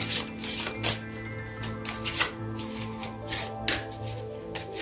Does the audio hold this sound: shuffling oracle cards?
yes